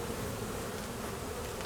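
A dense swarm of honey bees hums steadily around their hive during a winter inspection, the buzzing close, even and unbroken, with no voices.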